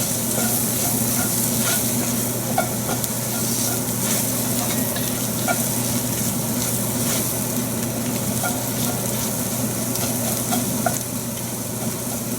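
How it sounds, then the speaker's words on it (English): Spices and Moroccan harissa chili paste sizzle steadily in a hot pan, a close, continuous frying hiss with scattered crackles and pops running unbroken throughout, no voices. "The spices are blooming. So, and then the harissa paste. This is the chili paste from Morocco. So let it cook for just a minute."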